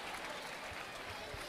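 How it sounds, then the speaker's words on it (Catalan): Audience applause for the Ball de Gitanes, a traditional Catalan dance, at a Sant Pere festival in a town square: steady, fairly distant crowd clapping throughout the brief moment. "fort aplaudiment pel Ball de Gitanes i el seu ball"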